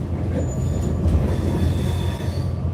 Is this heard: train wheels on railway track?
yes